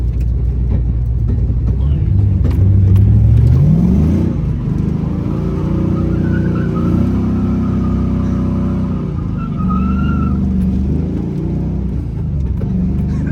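An LS-swapped Nissan 240SX S13 pulls hard from inside the cabin, its V8 rising in pitch through a gear before settling into a smooth, loud drone, with people talking over it.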